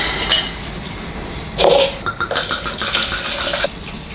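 Red wine pours into balsamic vinegar in a pan, a steady liquid splash and trickle with a brief louder gush midway, close and with no talking.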